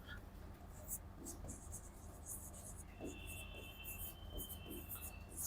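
Pen scratching across paper as a note is written by hand during an accounting class, faint, scratchy strokes in short irregular bursts over a steady hiss, with a quiet voice speaking softly at moments.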